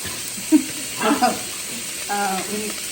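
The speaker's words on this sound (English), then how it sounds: "this is the pork belly that she is just sauteing right now" Pork belly sautés in a pan with a soft, steady sizzle under brief voices and a few clinks of stirring, heard close but fairly quiet beneath the talk.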